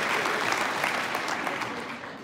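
At a live presentation, an audience breaks into applause, a dense, steady wash of clapping that holds at a fairly loud level and tapers slightly toward the end.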